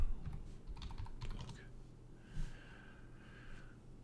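Typing on a computer keyboard while entering terminal commands for a Laravel 6 setup: a short burst of clustered key clicks, then a quieter stretch with a faint steady whine and one more soft tap.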